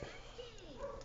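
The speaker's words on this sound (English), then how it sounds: "and the dogs are barking" Dogs barking and yipping close by, with short excited calls mixed in and someone talking over them throughout.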